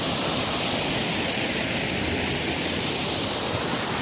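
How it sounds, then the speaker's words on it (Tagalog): Lusno Falls waterfall in Ronda, Cebu, heard from above: a steady, dense roar of falling water, loud and constant with no breaks and no voices. "So naata karon diri sa babaw no sa Lusno Falls."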